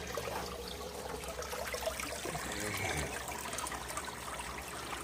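A bell siphon gurgles as water drains through it, churning up bubbles for aeration, a steady liquid rush and trickle close by with no talk.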